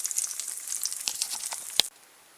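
Refried beans sizzling in grease in an extra deep skillet, a close, steady crackling hiss with a few sharper pops before cutting off abruptly near the end.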